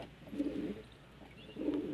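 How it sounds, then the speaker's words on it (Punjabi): A pigeon coos softly nearby, two low murmuring bursts separated by a short pause, faint and alone. "ਇੱਕ ਆ ਚੈੱਕ ਕਰੋ ਕਿੰਨਾ ਸੋਹਣਾ ਕਬੂਤਰ ਆ"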